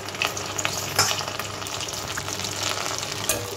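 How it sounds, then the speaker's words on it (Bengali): Soaked cashews and raisins hit a hot frying pan, giving a loud, close, steady sizzle with a few spoon scrapes and stirs on top, and no voices. "সেই কাজু কিশমিশগুলো জল থেকে দিয়ে দিলাম।"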